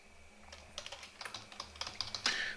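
Fingers type on a computer keyboard while working in InDesign, a run of quick, irregular clicking keystrokes that grows busier toward the end, close-miked and free of speech.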